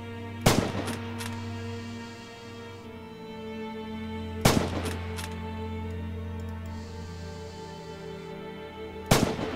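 Three sharp, loud gunshots ring out at wide even intervals in Red Orchestra 2, each with a brief echoing tail over a steady droning ambience.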